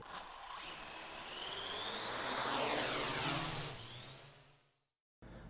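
A high-pitched whining buzz of a DJI Mavic quadcopter drone swells and shifts in pitch, loud and close, then cuts off abruptly near the end.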